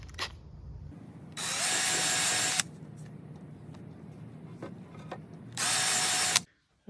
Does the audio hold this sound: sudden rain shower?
no